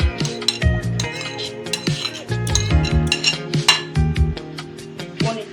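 A spoon mixes bread roll filling seasoned with amchur powder in a bowl, producing repeated close clinks and scrapes against the bowl's sides in an uneven rhythm, loud and alone with no voices.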